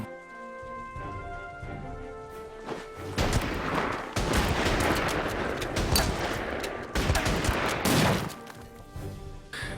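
Gunfire in the World War II strategy game Order of Battle: World War II, with dense bursts of rifle and machine-gun fire and heavier booms rolling over sustained battle noise, loud and continuous, with no talk.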